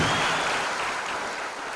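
Sustained applause from a church congregation at a new sanctuary grand opening in Dandora, a dense steady wash of clapping that fills the space without pause.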